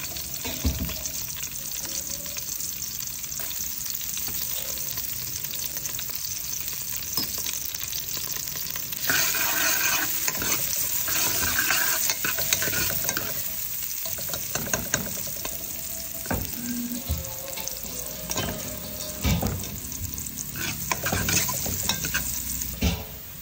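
Garlic sizzling and being stirred in hot oil in a pan while cooking papaitan, a steady bright frying hiss with scraping stir strokes throughout, loud and close, with no talking.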